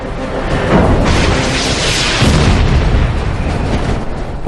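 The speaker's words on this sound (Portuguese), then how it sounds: "O primeiro míssil de Vic detonou próximo à cauda" An air-to-air missile detonates near a MiG's tail, a loud sustained explosive roar and rumble lasting several seconds without speech.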